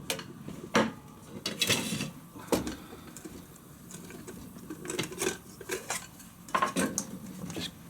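A metal trivet is pulled out of a Trangia alcohol stove's camping cook pot, making close, irregular clinks, clatters and scrapes of metal on metal in short bursts.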